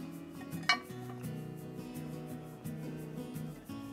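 A cast iron Dutch oven lid is lifted off a pot of simmering chile verde over an open fire, giving a single sharp metallic clink, then a low ongoing bubbling simmer, fairly quiet and close.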